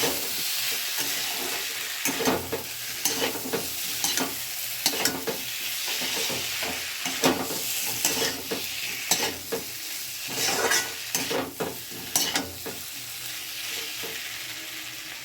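Potatoes stirred and fried in a pan give a steady sizzle, with repeated scraping clatters of the spoon against the pan throughout, close and fairly loud.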